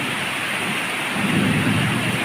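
Pre-monsoon rain falls steadily in Pune with a low thunder rumble swelling in the second half, a dense continuous wash of rain at close range and no voices.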